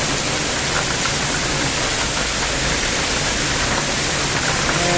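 Downpour during a lightning storm, a dense, steady roar of rainfall that holds at the same loud level from start to finish.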